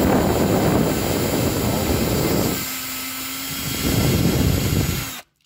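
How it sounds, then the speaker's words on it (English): A power drill with a hole saw cuts into a Ford Falcon wagon's rear bumper, whirring loudly and steadily, dipping briefly in the middle, then revving back up before cutting off abruptly. "Let the drill do the work."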